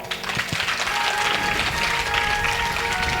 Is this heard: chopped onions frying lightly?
no